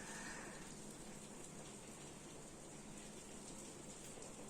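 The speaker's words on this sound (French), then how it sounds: "Il y a une demi-heure, il faisait beau et maintenant il pleut à torrent." Heavy rain pours steadily outdoors as a continuous broadband hiss, loud and unbroken from start to finish, with no voices heard.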